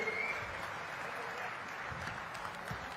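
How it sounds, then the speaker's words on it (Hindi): A faint, steady wash of audience clapping welcomes the Chief Minister at a state-level Employment Day event in Neemuch, Madhya Pradesh, continuing evenly for the whole stretch with a distant crowd murmur. "जोर से ताली बजाइए"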